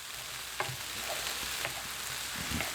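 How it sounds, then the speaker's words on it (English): Steady sizzle of Singapore fried rice frying in a pan as curry powder is stirred through, with soft scraping stir strokes recurring every second or so over a continuous hiss, close and moderately loud, no voices. "Stir it in, get it incorporated and that, I suppose."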